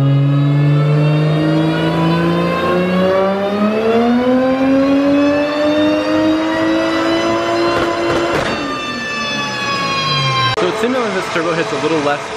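A big-turbo BMW 335i engine revs hard on a dyno, a loud, sustained pull whose pitch climbs steadily, then drops away briefly and surges again near the end.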